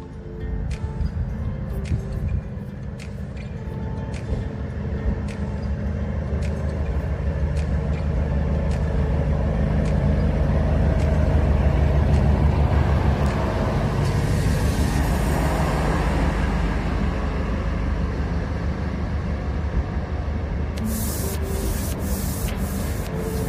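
A train rumbles into Amalner railway station steadily, the low roar building and then easing, with rhythmic clacks early on and a hiss of air near the end.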